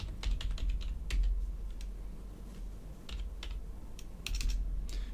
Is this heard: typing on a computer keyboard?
yes